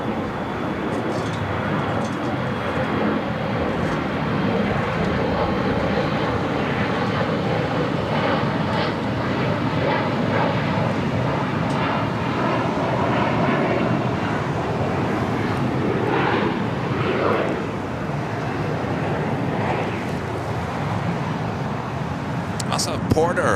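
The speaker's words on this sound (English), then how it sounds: "KLM Flight 602 lighting up, should have a south side takeoff coming up." KLM jet airliner spooling up for a south-side takeoff at LAX, a steady broad engine roar holding loud and constant throughout, with traffic-like rumble and faint radio chatter mixed underneath.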